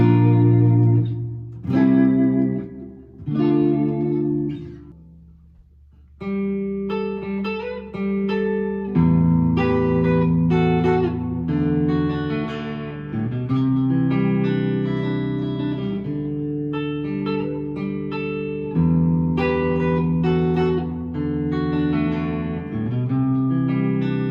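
Squier Classic Vibe Jaguar electric guitar on a clean tone, playing a slow sequence of plucked notes and ringing chords, with a brief pause early on, clear and unaccompanied.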